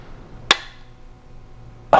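An Extar EP9 9mm pistol gives two sharp, close trigger reset clicks about a second and a half apart, crisp and isolated against quiet background.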